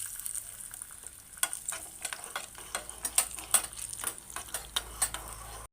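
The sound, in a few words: cashews frying in coconut oil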